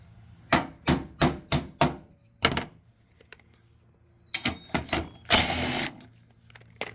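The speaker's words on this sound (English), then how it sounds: "with a little persuasion from the hammer" A hammer strikes painted bolts on the front end of a 1999–2004 New Edge Mustang in sharp metallic blows, a fast run of five, then a pause with a couple more, followed by another quick burst and a rasping scrape.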